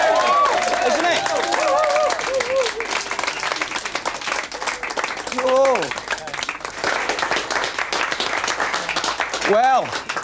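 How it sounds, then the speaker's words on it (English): A television studio audience gives a full round of applause, dense and close with some cheering, while voices speak over it in places. "Give him a round of applause."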